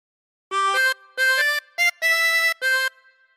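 Harmonica playing a phrase of Pop Goes the Weasel, five clear blown and drawn notes in separate bursts, close and alone with no talk.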